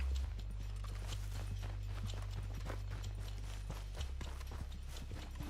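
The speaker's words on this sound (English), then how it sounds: "Why is that horse still running?" Rhythmic hoof clip-clop of a horse galloping in Red Dead Redemption 2, steady and close, running continuously over a low droning background.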